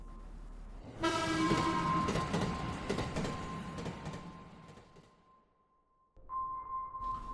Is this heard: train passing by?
yes